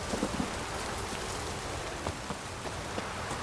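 Steady rain hissing across an outdoor scene in the Witcher 3 video game, a dense even wash of drops with faint scattered patters and a low storm rumble beneath, constant throughout.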